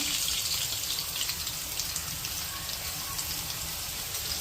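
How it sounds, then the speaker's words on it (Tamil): Kozhukattai dumplings deep-frying in hot oil on medium flame, giving a steady, close crackling sizzle with a fine bubbling hiss throughout and no speech. "இந்த மாதிரி இதை எண்ணெயில் பொரிச்சு எடுத்துக்கலாம்"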